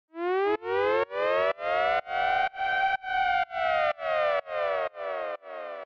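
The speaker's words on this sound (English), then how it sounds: "And then we've got this siren." A synthesized siren from a siren plugin in a bass house track sweeps upward in about ten repeated rising wails, each cut short with a brief gap, loud and buzzy with a slight effected sheen.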